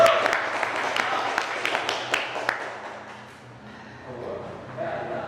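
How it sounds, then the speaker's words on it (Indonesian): Applause from an audience at an Independence Day reflection dialogue event for youth, a dense patter of claps that fades toward the end, with a voice speaking over it. "Berikan tepuk tangan yang meriah."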